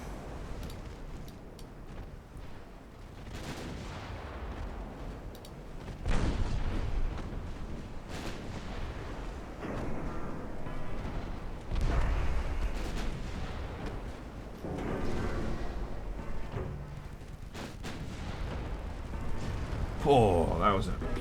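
Naval 5-inch guns boom in a naval combat video game, with repeated deep, rumbling shots and heavy blasts rolling every few seconds under ongoing speech.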